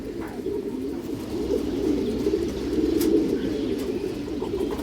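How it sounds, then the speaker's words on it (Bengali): Road Master pigeons coo in a low, continuous murmur, close and soft, with no voices over them. "এগুলো রোড মাস্টার কবুতর দর্শক"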